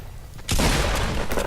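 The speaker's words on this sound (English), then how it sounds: "double barrel doing no damage" Double-barrel shotgun blast in an online shooter game, a sudden loud burst that stays dense and sustained for about a second after a quieter lead-in.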